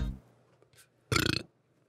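A single person's burp: a short throaty sound opens the clip, faint noises follow, then a louder, raspy, pulsing belch of about a third of a second before quiet.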